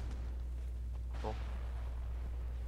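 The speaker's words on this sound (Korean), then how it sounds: "총소리가 들렸는데." A single distant gunshot rings out in the Sniper Elite 2 video game, a brief, far-off report with a short decaying tail over a steady low in-game background hum.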